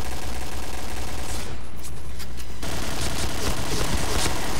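Bursts of automatic gunfire in the shooter video game Point Blank, dense rapid shots filling the whole clip with a short dip midway before the firing resumes loudly.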